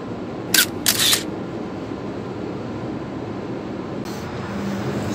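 Single-lens reflex camera shutter clicking while photos are taken of a bay in the morning: two or three quick, close clicks early, then one softer click later, over steady outdoor background noise.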